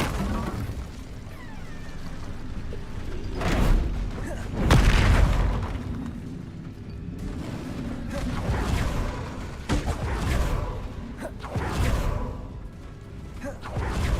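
Confringo spell blasts in Hogwarts Legacy: several heavy booming explosions with whooshing bursts, spaced apart among combat noise, loud and close.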